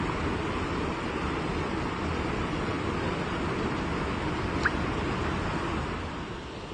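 A mountain river and waterfall at Bindu in the Dooars rush in an unbroken broadband roar, steady and fairly loud throughout, fading slightly at the end, with no one speaking.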